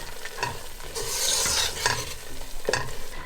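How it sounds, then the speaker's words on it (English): Close-up sizzling as chickpea flour fries in ghee in a pan for mohanthal, with a spoon scraping and stirring in irregular strokes. "Now while I'm frying my chickpea flour here"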